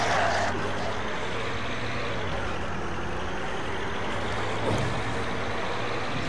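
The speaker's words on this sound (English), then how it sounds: "it's a tank, you're supposed to just drive through things." Tank rumbling along while being driven in the Dead Island video game, a heavy continuous engine drone with a low steady hum, loud and close, with a small bump near the end and no talk.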